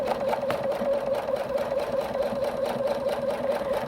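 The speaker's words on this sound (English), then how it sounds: "place it under the machine and take your pin out, of course, and just do a simple straight stitch" A sewing machine runs a straight stitch through French bias piping, with a fast, even mechanical chatter at close range, continuous and alone without voices.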